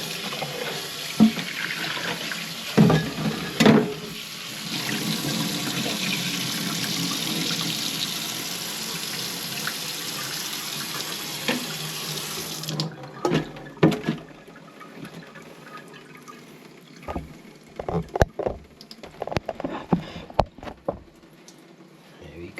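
Strawberries rinsed under a running faucet in a sink, a steady rushing water stream for about twelve seconds before it stops, followed by scattered handling clatter and splashes with brief talk.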